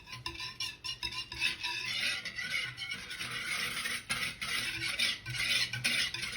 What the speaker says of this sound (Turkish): Bütün malzemelerim özleşene kadar karıştırıyorum.